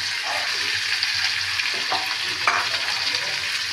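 Garlic and ginger fry in a hot pan for dal, giving a steady, close sizzle with a few scraping stirs of a utensil across the pan.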